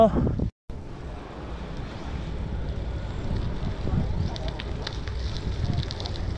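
Wind buffets the microphone in a steady rumbling rush while mountain biking outdoors, with a brief dropout near the start.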